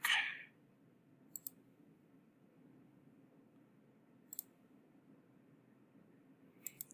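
Computer mouse clicks in a quiet room, a few faint paired clicks spaced seconds apart after a brief louder noise at the start.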